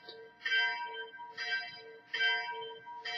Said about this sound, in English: Let us listen to that bell